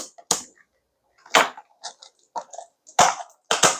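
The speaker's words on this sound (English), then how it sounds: "We're just going to go in with the scissors." Scissors snip into a Donruss trading card box in a few short, sharp cuts with quiet pauses between, close and crisp, with light crackling of cardboard.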